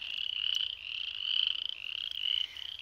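A frog croaks steadily outdoors near railway tracks in midday heat. The high, buzzing trill pulses continuously and stays fairly close and clear.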